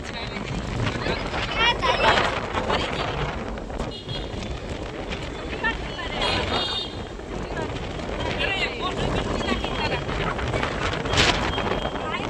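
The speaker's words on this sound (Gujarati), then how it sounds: "ફૂલ પવન છે, વરસાદ જેવું થઈ ગયું છે" Strong gusting wind buffets the microphone outdoors as rain threatens, rising and falling in loud rushes, while people talk in the background.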